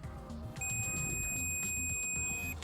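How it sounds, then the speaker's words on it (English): A steady electronic continuity beep from a multimeter begins about half a second in and holds continuously for around two seconds, with faint background noise beneath. "it will make a beep if there is a connection"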